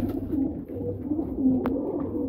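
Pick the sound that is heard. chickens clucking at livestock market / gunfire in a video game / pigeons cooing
pigeons cooing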